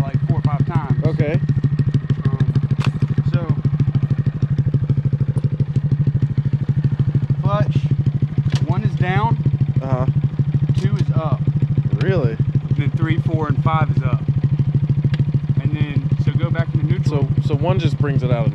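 A Honda Grom motorcycle runs steadily up close with a constant engine drone, while people talk over it throughout.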